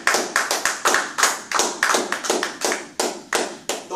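A church congregation claps in praise, a fast, steady run of sharp, bright hand claps filling the room with no voices over them.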